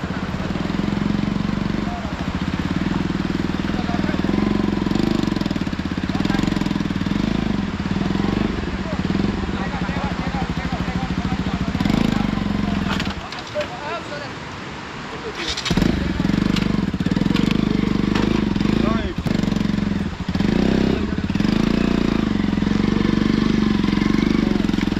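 A motorcycle engine runs on a mountain road trip in Nepal, a steady, loud throbbing drone that dips briefly midway and then resumes, with people talking over it at times.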